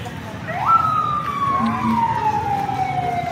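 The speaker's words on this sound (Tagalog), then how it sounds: "May ambulansya dito, guys," An ambulance siren wails close by in one long, loud, slowly falling tone, heard over crowd noise and a few voices at an outdoor gathering where children have fainted.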